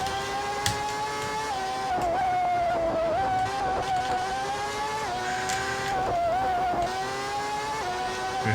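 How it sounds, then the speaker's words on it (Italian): A 1989 McLaren Formula 1 car in the racing game Grand Prix 4, with a loud, high-pitched engine whine that rises and drops sharply through repeated gear changes and corners. "Questa McLaren pompa che è una meraviglia"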